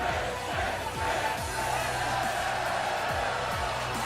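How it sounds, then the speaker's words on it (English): A large video game crowd chants "10" in a steady, echoing roar, with rhythmic shouts rising and falling over a constant distant din. "the crowd are chanting 10"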